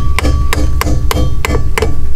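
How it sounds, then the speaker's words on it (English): Seven sharp hammer blows strike a wrench to loosen the windshield wiper arm on a BMW F30, evenly spaced about a third of a second apart, loud and close with metallic ring. "So here is the hammer and wrench technique."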